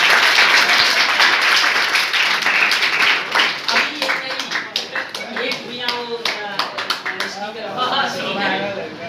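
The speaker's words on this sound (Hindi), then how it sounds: "एक बार ताली बजा रहा है" Students in a classroom clap together. The applause is loud and dense at first, then breaks into looser, rhythmic claps, with some voices mixed in.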